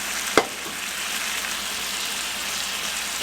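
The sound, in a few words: chicken broth ladled into risotto rice in pan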